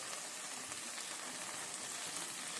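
Steady, dense sizzling of cheese frying in a hot pan, a continuous crackling hiss with no pauses.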